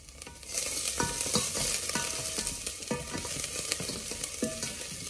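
Garlic sizzling in hot oil in a pan while being stirred, a dense crackling fry close up, punctuated by several sharp scraping strokes of a utensil against the pan.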